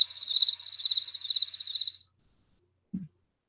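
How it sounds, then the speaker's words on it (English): Crickets chirping in a pulsing high trill for about two seconds, then silence broken by one short low thump. "Sound like crickets over there, fam."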